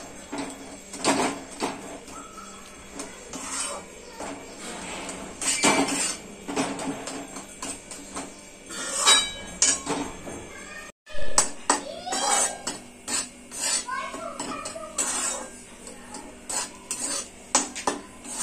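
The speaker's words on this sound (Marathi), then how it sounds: "मीडियम गॅसवर असं छान असं भाजून घ्यायचं आपल्याला" Rajgira flour is roasted over medium heat in a pan and stirred with a metal spoon, making repeated close scraping and clinking strokes against the pan with a faint sizzle beneath.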